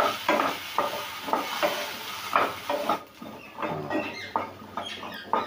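Turmeric powder and Kashmiri chili stirred into a hot pan while making sooji upma, heard as rhythmic scraping and clattering strokes of a spoon over a soft sizzle, close up, with no voices.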